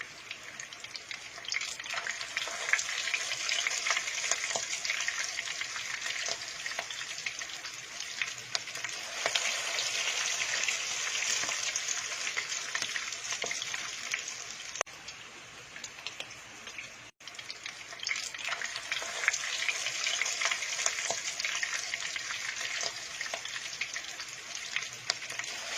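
Low-carb tuna burger patties fry in oil in a steady, moderately faint sizzling hiss with light crackles, broken by a brief clatter and pause as the patties are turned with kitchen tools, then frying on.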